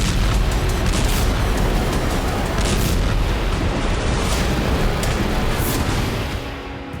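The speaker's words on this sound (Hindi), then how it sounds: "24 मार्च 2024 सेवेस्तोपोल आसमान धमाकों से गूंज रहा था।" Explosions over Sevastopol, Crimea, make a loud, continuous roar of overlapping booms and rumbling blasts, with repeated sharper bursts standing out before the noise fades slightly at the end.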